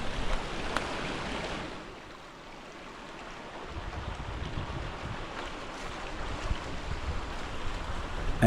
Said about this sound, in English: Actually, 2 waterfalls after a beautiful forest walk.